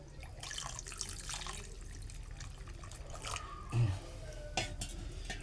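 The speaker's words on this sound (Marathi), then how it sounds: "ते ह्याचं जे शिजवलेल्याचं पाणी होतं तेच मी आता ह्याच्यात टाकणार आहे" Cooking water from boiled vegetables is poured into pav bhaji, making a steady, fairly close splashing and trickling that runs throughout with a brief louder slosh near the end and no talk.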